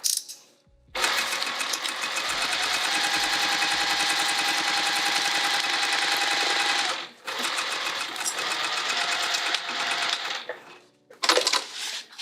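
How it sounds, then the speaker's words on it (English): A sewing machine runs steadily across the top of a vinyl bag pocket, its rapid mechanical stitching close and loud for several seconds, pausing briefly, then resuming in shorter bursts. "we're sewing across the top of the pocket right now"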